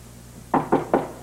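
Three firm, evenly spaced knocks on a wooden door, close and distinct against a quiet indoor background.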